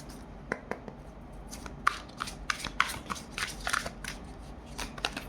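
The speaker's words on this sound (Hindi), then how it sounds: "बहुत सारे कार्ड्स हैं, लेट्स शफल अगेन।" Tarot cards shuffled by hand, a run of quick soft riffling and flicking bursts at an irregular rhythm, close and fairly quiet, with no talking.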